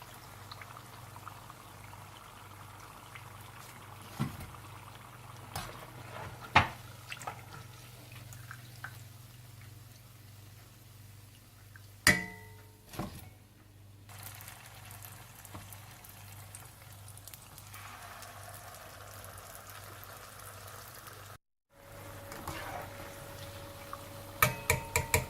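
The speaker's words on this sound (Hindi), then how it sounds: "इसी तरह से आप सारी खजूरें तल लें।" Dates frying in hot oil for date fritters, a soft continuous bubbling sizzle with a few sharper pops and clinks, fairly quiet throughout.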